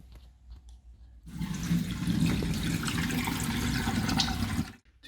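Water pours steadily through a sieve as the floating material from a flotation sample is tipped off the surface, a close, continuous splashing rush that starts abruptly and stops near the end.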